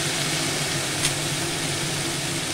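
Bitter gourd and potato chorchori frying in a pan, giving a steady, close, dense sizzle that holds evenly throughout with no voices.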